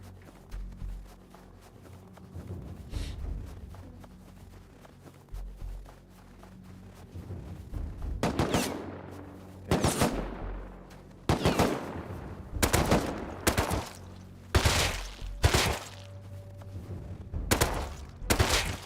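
Gunfire in the PC survival game Rust, a run of loud sharp shots in bursts that grow denser after the first few seconds, over low ambient rumble and occasional footsteps.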